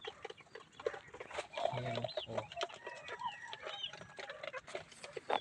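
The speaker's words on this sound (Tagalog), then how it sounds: "Ito yung mga manok na makukulit" Chickens on a farm, loose and restless, clucking in short scattered calls close by, with a person talking quietly among them.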